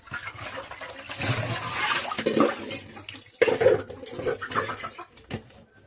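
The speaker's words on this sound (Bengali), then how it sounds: "এখন পোলাও চালগুলোকে ধুয়ে নিতেছি" Tap water runs and splashes while polao rice is washed by hand in a bowl, a steady broad rush with louder bursts and sloshing as the grains are stirred and rinsed.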